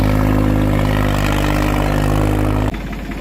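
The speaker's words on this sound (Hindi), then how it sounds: "अब आवाज चेंज होगी ट्रैक्टर की।" A Swaraj 744 XT tractor engine runs loud and close with a steady, throbbing diesel drone that shifts abruptly to a lower, rougher tone near the end, with no speech over it.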